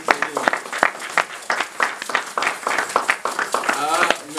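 A church congregation claps in a quick rhythmic beat during a service, sharp hand claps mixed with loud voices speaking and calling out over them.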